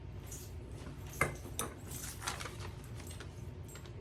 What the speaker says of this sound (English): Let me get my spoon here